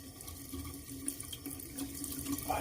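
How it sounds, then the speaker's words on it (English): Tap water runs steadily into a sink while a shaving razor is rinsed off, a continuous hissing flow with light splashes from the blade passing under the stream. "Rinse this off here."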